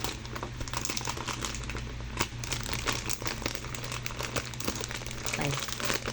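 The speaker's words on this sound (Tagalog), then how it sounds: "Kasi kung bubuksan ko ito ay makapunit ang plastic." A plastic parcel mailer from a Shein order being opened, with close, continuous crinkling and crackling of the plastic throughout and a steady low hum underneath.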